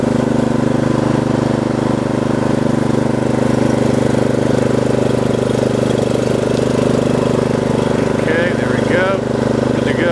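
A Craftsman R110 riding lawn mower engine runs loud and close, a steady droning hum at full throttle, with a voice briefly heard over it near the end.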